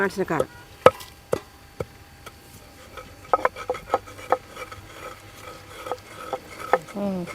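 Garlic and chili being pounded in a stone mortar for an old-style village chutney, a series of sharp, irregular thuds and knocks close by, with brief speech between strikes.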